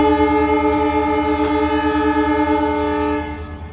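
The locomotive of the Bandra–Jaisalmer Superfast Express sounds one long, loud, steady horn blast close by. It holds for over three seconds and then begins to fade.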